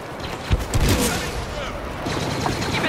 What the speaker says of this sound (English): Stop shooting my friends.